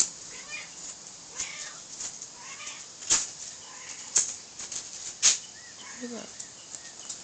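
Cat meowing in short cries while a bird flaps and dive-bombs it outdoors, with sharp wing flutters and chirps coming in bursts over a quiet background.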